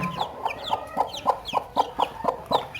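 A native desi hen clucks in a steady run of about ten evenly spaced, close clucks beside her newly hatched chicks, whose thin high peeping threads through the gaps.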